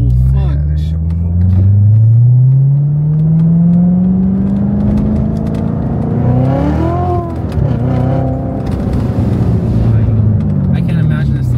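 A Chevrolet Corvette C7 Z06 with headers, cold air intake and a tune accelerates hard from inside the car, its engine droning loud and rising in pitch through a gear change, while passengers talk and exclaim over it.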